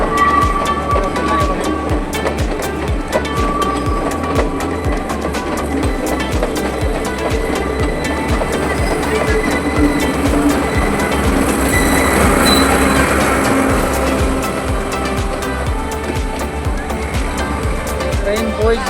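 A train rolls past nearby for the whole stretch, a steady loud rumble with rhythmic wheel clatter and some squealing, while a person talks over it now and then. The setting is a trip in Sri Lanka.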